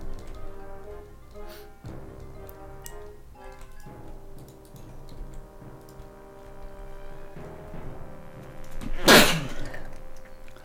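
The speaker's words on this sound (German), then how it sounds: "Erst nochmal niesen." A single sharp, loud sneeze bursts out near the end over a quiet Minecraft backdrop of soft ticking and gentle game tones.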